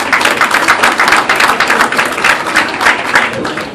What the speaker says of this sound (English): By round of applause, who likes having sex?